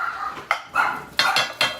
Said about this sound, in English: And the dogs are greeting Uncle Joe.